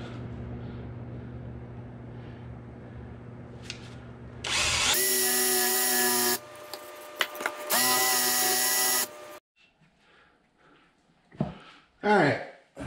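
Cordless battery power drill boring holes, loud high-pitched whine in two long bursts with a brief stop between, then fading as the battery dies, with quiet handling noises and a voice talking before and after.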